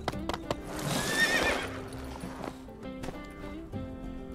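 A horse in the video game My Time at Sandrock neighs loudly and close, with a steady clip-clop of hooves trotting underneath and a few sharp game clicks.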